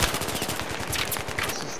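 Player firing a gun in Battlefield 3: a continuous close, loud burst of automatic gunfire with rapid rattling shots and no talking.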